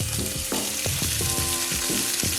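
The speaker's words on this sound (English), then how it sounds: "You wanna make sure to press it down too so you get a nice sear on it." A ribeye steak sears hard in a hot pan, a loud continuous close sizzle overlaid by a few sharp metallic clinks and taps, with no talk.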